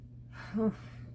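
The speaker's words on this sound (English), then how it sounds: "I keep yawning. Excuse the yawning." A person yawns once mid-conversation, a brief, fairly loud drawn-out voiced breath that swells and fades over about a second against a low steady background hum.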